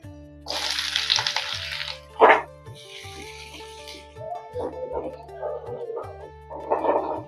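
Chopped onions drop into smoking-hot mustard oil in a pan, giving two bursts of loud, hissing sizzle followed by quieter frying, with kitchen clatter and a voice nearby.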